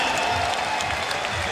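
Steady roar of a crowd at a Street League skateboarding contest in 2012, loud and continuous, with applause and cheers blending into a dense wash of sound.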